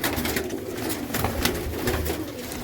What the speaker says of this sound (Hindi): और 2 बेबी पिजन ये हैं